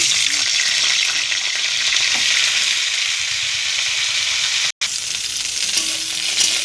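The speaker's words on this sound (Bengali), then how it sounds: "ফুলকপিটা হালকা করে ভাজা হয়ে গেছে" Cauliflower pieces frying in hot oil in a wok, giving a loud, continuous close sizzle with occasional stirring scrapes and a momentary break near the end, with no speech.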